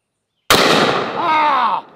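A double-barrel 8 gauge super shotgun fires a single barrel in one loud, close blast that rings and decays for over a second before cutting off.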